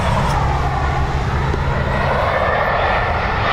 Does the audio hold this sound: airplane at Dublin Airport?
yes